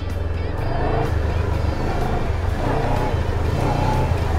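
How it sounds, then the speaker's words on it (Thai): A motorcycle engine rumbles nearby as its throttle is opened and closed in a rhythm, making the revs surge and drop in regular pulses. "แต่ใช้เป็นการเปิดและปิดคันเร่งให้เป็นจังหวะ"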